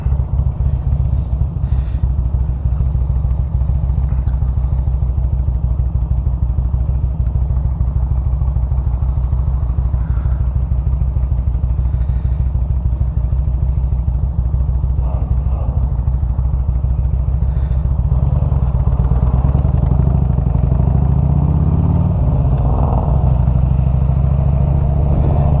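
A carbureted Harley-Davidson Electra Glide with S&S 510 cams and Shark Road slip-on mufflers runs continuously for over twenty seconds, a deep loping loud rumble that stays close and near constant in level.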